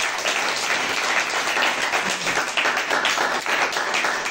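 A congregation at a church revival gathering in Bobo-Dioulasso applauds with dense, loud, sustained clapping that stays even throughout.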